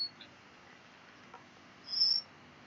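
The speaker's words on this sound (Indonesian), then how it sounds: "Burungnya ikut berkicau." A pet bird chirps somewhere in the background during a lecture on erosion, giving a brief, faint, high chirp or two against a quiet room hum.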